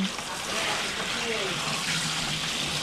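Tap water runs steadily over lettuce leaves being washed, a continuous close splashing stream with people talking over it.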